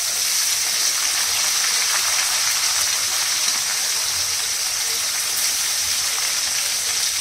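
Onions and green chillies frying in a pan, with a loud, dense, continuous hiss of sizzling oil, close and unbroken throughout.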